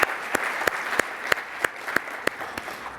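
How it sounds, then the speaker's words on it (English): A short burst of applause, with steady hand clapping from a crowd and a few louder, sharper claps standing out at regular intervals. "Could we give them a round of applause for handling the communications?"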